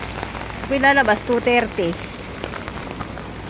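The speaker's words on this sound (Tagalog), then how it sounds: "Parang natural na ulan lang." Steady rain patters softly as a continuous background hiss outdoors in Hong Kong during a typhoon signal ten, while someone speaks briefly over it.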